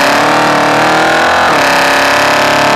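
A Holden VH Commodore with a 355 stroker V8 revs hard during a pull, a loud, dense engine roar climbing in pitch, dipping briefly at a gear change, then rising again.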